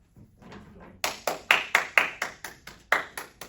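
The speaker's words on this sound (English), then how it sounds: "I'm clapping to keep you awake" Hand clapping: a dozen sharp, evenly spaced claps in a steady rhythm, loud and close, after a brief soft murmur.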